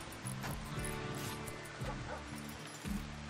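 Dog in the video game RimWorld (Alpha 14) getting its wounds treated, giving a run of high-pitched yips and whimpering cries, close and fairly loud, repeated several times in quick succession.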